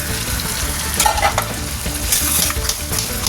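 Boiled dal poured into a pan of frying spiced fish head, loud continuous sizzling and bubbling close by, with a spoon stirring and scraping through the mixture.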